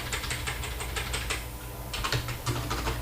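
Steady clatter of typing on a computer keyboard, a quick run of key presses with a brief lull midway before the tapping resumes, close and fairly quiet with no voices.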